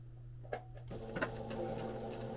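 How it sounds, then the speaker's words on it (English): A sewing machine stitches along the edge of an apron, a low steady mechanical hum picking up and running continuously after a couple of faint clicks, fairly quiet and without talk. "And I'm going to try and stitch right along the edge there."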